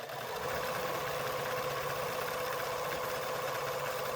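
A domestic sewing machine runs steadily while stitching a hanging sleeve onto a bound quilt, giving a continuous close mechanical whir with a fast rhythmic hum and no pauses.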